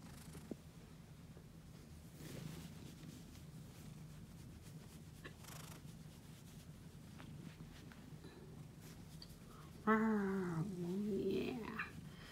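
A pet cat gives a short, close meow-like call near the end, following a long stretch of quiet room noise with faint shuffling and light movement.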